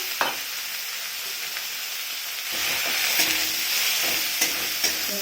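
Boiled mustard greens with black cumin hitting a hot pan for a mash, a thin hiss that swells into a louder crackling sizzle halfway through, punctuated by a few stirring knocks.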